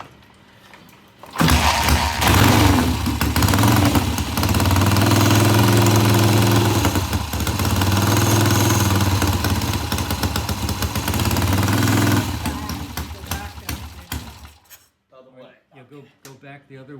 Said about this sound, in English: The bike started.